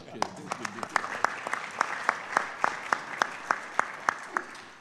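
Audience clapping at a barbershop conference, a sustained burst of applause with distinct sharp claps standing out over the crowd, fairly close and even throughout, with no one speaking.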